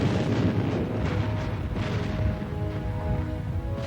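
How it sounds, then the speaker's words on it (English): Heavy booming bombardment rolls on without a break, deep thuds overlapping into a continuous thunderous rumble. "He could not be heard over the thunder of cannon,"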